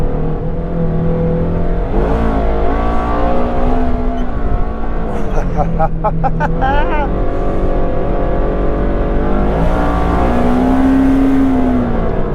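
Engine of a long-travel Ford Expedition on 35-inch tires drones loudly from inside the cab while driving off-road, with rising and falling revs and road rumble, and voices talking over it.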